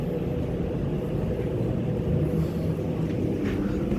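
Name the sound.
Cambridge heating unit blower continuing to run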